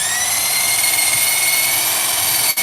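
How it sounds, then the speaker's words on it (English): A power tool polishing rust off a 1967 Dodge Dart makes a loud, steady high-pitched whine that holds unbroken, dipping only briefly near the end. "As I sand and polish."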